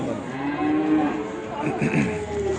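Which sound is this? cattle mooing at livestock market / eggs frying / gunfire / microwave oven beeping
cattle mooing at livestock market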